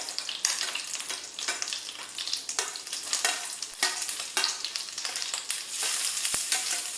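Onion, green chili, ginger, garlic and curry leaves sautéing in hot oil for upma, a loud continuous crackling sizzle broken by repeated spatula scrapes and stirring strokes, close and without talk.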